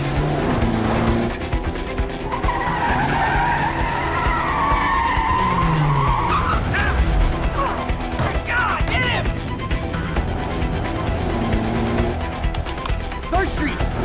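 Car chase in Quantum Break with a Nissan Z and pursuing SUVs: loud, sustained tire skidding and engine roar with sliding screeches throughout, near and dense.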